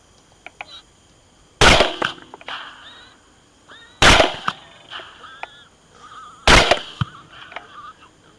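Three loud, sharp rifle reports from hog hunting, spaced a couple of seconds apart and each followed by a brief echoing tail, with faint clicks and rustling between the shots.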